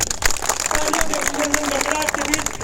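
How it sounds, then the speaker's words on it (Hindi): Crowd applause at a farmers' rally, a short burst of loud mixed clapping with voices and a faint tonal sound running through it. "मैं फिर से एक बार जोरदार तालियां।"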